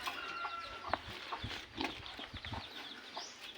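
Chickens and chicks cluck and peep near a pig pen, a busy mix of short soft calls and a sharper squawk, moderately close over low farmyard rustling.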